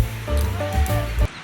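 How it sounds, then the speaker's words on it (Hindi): A steady wind rushes through leaves in Islamabad on an afternoon, a loud continuous breathy roar close to the listener, with no talking. "देखिए कितनी प्यारी हवा चल रही है"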